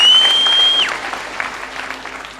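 An audience at a church event claps for Churchill in a brief round of applause that tapers off, heard under a loud steady electronic tone that drops away early.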